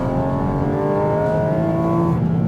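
A 2023 Porsche Cayman GT4RS engine climbs through the revs, its loud, close tone rising steadily in pitch with layered harmonics, then easing at the very end.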